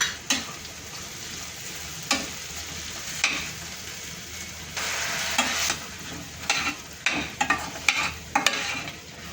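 Dry ground spices, turmeric, onion-garlic masala, red chilli powder and garam masala, frying in oil for a bitter gourd curry, with a steady sizzle broken by repeated sharp spoon scrapes and clinks against the pan.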